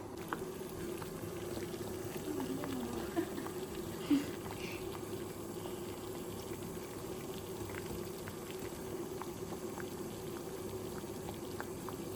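Water boils steadily in a pot to melt chocolate for a cake in a home kitchen, a continuous bubbling hiss with occasional small pops throughout.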